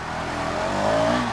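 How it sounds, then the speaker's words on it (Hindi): A 2025 Hero Xtreme 250R motorcycle engine pulling in first gear, a loud, close, steadily rising engine note that climbs in pitch as it accelerates, with no talking. "अब चलिए अब स्टार्ट करते हैं बाइक को।"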